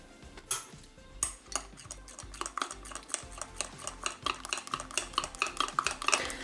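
A spoon briskly stirring gelatin mixed into a dessert mass in a bowl, rapid rhythmic clinks and scrapes that grow quicker and denser, close and clear with no talking.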